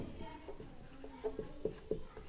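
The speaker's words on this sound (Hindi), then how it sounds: "मैं यहां पर लिख रहा हूं" Pen or chalk writing during a Class 8 maths lesson on squares and square roots, a series of short scratchy strokes that grow sharper toward the end.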